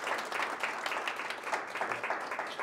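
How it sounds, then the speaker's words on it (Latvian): An audience applauds at a master's programme graduation ceremony of the Riga Technical University engineering economics and management faculty, dense sustained clapping filling the whole stretch at steady loudness with no talk over it. "Dāmas kungi, aplausi."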